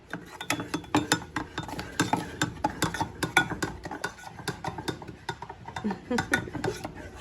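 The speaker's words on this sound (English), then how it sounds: "Well, we can use the big spoon for now. Stir it up." A big spoon stirs a mixture in a bowl during simple home cooking with a child, giving a run of quick, close scraping and clinking knocks in an uneven rhythm that continues steadily throughout.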